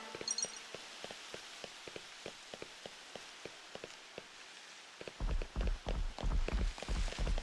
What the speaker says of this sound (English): Rain, how inconvenient.